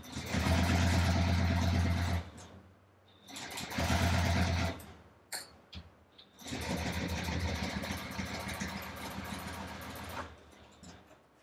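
A sewing machine with a Teflon presser foot bastes vinyl for a Stockholm bag, whirring in steady close runs of stitching that stop and start with short pauses, mechanical and loud.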